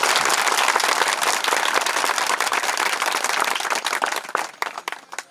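Audience clapping loudly at a religious ceremony in a Telugu math, a dense sustained burst of applause that thins into scattered claps near the end.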